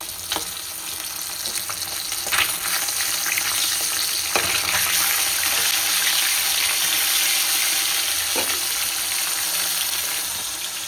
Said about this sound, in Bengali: চলো মাছটা ভেজে নিয়ে আসি।